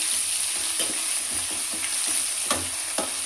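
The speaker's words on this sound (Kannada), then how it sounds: "ಇವಾಗ ಸಾಸಿವೆ ಹಾಕ್ತೆ, ಪಲಾವ್ ಸ್ಪೈಸಸ್ ಎಲ್ಲ ಹಾಕ್ತಾಯಿದ್ದೀನಿ. ಬೆಳ್ಳುಳ್ಳಿ ಆ್ಯಡ್ ಮಾಡ್ಕೊಳ್ತಾ ಇದ್ದೀನಿ." Mustard seeds, pulao spices and crushed garlic sizzle steadily in a hot pan for palak rice, a loud continuous fry with occasional pops and stirring clatter.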